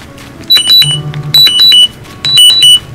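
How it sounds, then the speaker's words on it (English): A continuous glucose monitor sounds its low blood sugar alarm: three bursts of high, shrill two-tone beeping in quick groups, fairly loud and close, with faint background noise between them. "That was my alarm."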